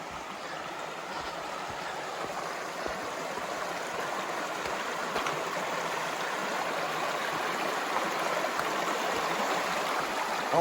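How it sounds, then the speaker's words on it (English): A mountain stream at a water crossing on the Appalachian Trail gives a steady, broad rushing and gurgling that holds at an even, moderately close level, with no talking over it. "coming up on a water crossing"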